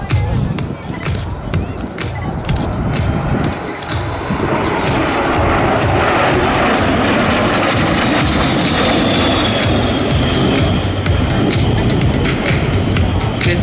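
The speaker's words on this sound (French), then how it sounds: "Cet avion aux formes si particulières est l'aéro Vodolchody L-39" An Aero Vodochody L-39 jet roars at the Meaux airshow, the sound swelling and holding as a loud, rushing drone with a rising whine, and crowd noise sits underneath.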